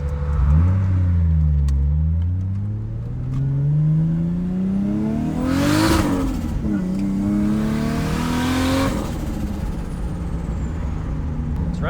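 A car engine idling and revving up and down, a loud close rumble with rising and falling pitch, a running-rich fault with off air-fuel ratios, no clear speech over it.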